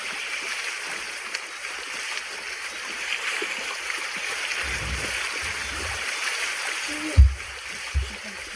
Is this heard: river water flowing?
yes